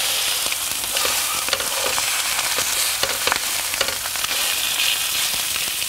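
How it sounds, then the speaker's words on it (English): Lough Neagh pollan fillets frying hard in a hot pan while pressed flat, a steady close crackling sizzle with scattered sharp pops throughout and no talking. "just press the fish down into the pan"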